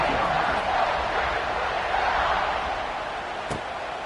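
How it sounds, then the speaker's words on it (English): A stadium crowd buzzes in the NCAA 26 college football game after a score, a broad steady roar with a commentator talking over it, easing slightly toward the end. "this crowd is buzzing after that last score"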